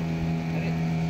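Motorboat engine droning steadily during a boat ride in Pondicherry, a loud continuous hum close by with wind buffeting the microphone.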